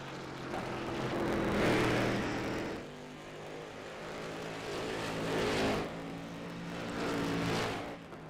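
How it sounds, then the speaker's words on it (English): Race car engines in the iRacing game drone and rev as cars pass, the whine swelling and fading in several waves at moderate distance with no talk over it. "the newer ones have, I feel like, a much different engine sound than that old street stock model"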